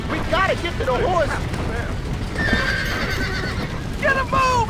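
Horses whinny and neigh repeatedly inside a burning barn in the Red Dead Redemption video game, loud and close, with shouted voices and crackling fire noise filling the background.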